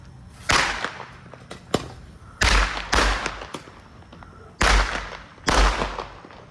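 Fireworks explode in a loose series of about five loud, booming cracks, with a couple of smaller pops between them, each blast trailing off into a short echoing decay.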